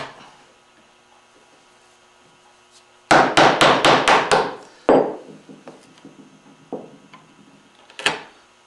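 A bench chisel chops cross grain through curly maple, heard as a quick burst of about six sharp, woody mallet strikes close by, followed by a few scattered softer knocks and one final sharp hit.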